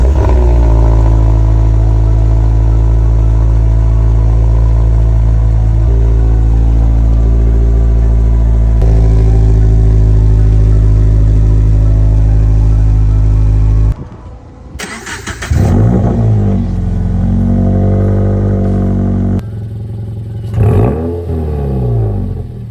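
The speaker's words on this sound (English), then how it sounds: "we just got the MBRP exhaust installed. We're gonna turn it on, see what it sounds like" A Toyota GR86 with an MBRP aftermarket exhaust starts and idles loudly up close with a deep steady drone, then shifts pitch, falls briefly quiet and restarts with several revs near the end.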